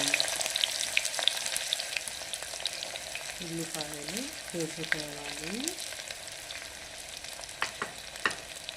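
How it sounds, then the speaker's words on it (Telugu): Onions fry in hot oil for a mutton curry, giving a steady soft sizzle with occasional stirring clicks, while a brief tonal sound rises and falls twice midway. "ఆయిల్ వేడెక్కాక ఉల్లిపాయలు వేసుకోవాలి"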